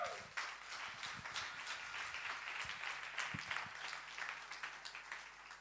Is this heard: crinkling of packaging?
no